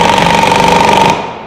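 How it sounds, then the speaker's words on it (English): A pneumatic air impact gun loosens the wheel on a Camso track system hub, a loud, steady rattling hammer that runs continuously for just over a second before cutting off. "we're going to take the air gun, turn it on, move the wheel out of there"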